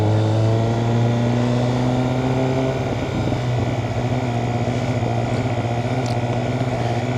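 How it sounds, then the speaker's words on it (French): A 200 hp MV Agusta motorcycle engine idles loud and close, a steady deep rumble with a firm harmonic drone that holds throughout, with a slight dip partway through. "on entend bien le son du moteur"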